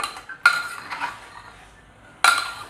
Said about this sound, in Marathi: आपण आता हे मटण मिक्स करून घेऊया असं एकसारखं